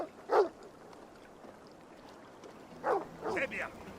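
Dog in the video game Assassin's Creed Valhalla, short barks or yips at the start and again near the end, faint and mid-distance over quiet game ambience.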